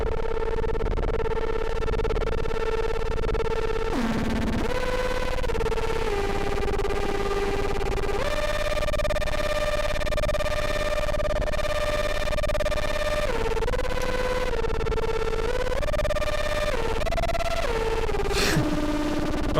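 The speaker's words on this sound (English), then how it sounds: "That distortion, having 4 bands, you can really kind of smooth it up a little bit." A four-band distortion effect on a Eurorack modular synthesizer buzzes in harsh, sustained, gritty tones whose pitch steps and slides between held notes, loud and continuous for about twenty seconds.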